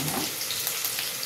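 Frying for mirchi masala curry, a short, steady hiss of oil sizzling in a pan, close and uniform with no speech over it.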